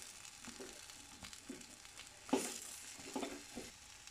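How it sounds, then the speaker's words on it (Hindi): Spiced potato filling for Punjabi aloo samosas frying in a pan, giving a soft, faint sizzle with occasional stirring scrapes and small bumps; quiet and close with no talking. "फ्राई हो चुका है"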